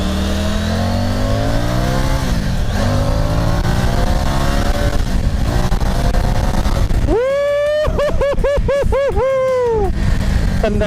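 A Triumph Tiger 900 Rally motorcycle accelerates hard in sport mode, its loud engine note climbing steadily in pitch, with a voice speaking over the later part.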